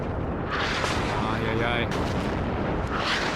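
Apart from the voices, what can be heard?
artillery shell explosions in a WWII strategy video game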